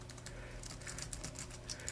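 Typing on a computer keyboard during a LISP programming demonstration, a steady stream of quiet, rapid key clicks with a faint background hum and no speech.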